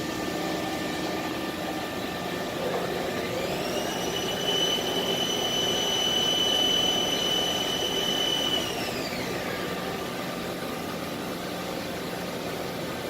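A Haas ST-30 CNC lathe swings through a tool change under a constant machine hum, a rising whine that holds steady for several seconds then falls away.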